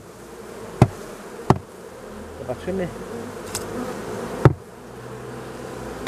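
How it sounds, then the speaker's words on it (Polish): A steady, dense buzz of a honeybee swarm fills the background at an apiary, with a few sharp knocks and a brief spoken word over it. "taka ostatnia moja rójka, która wyszła jako druga rójka z ula 15."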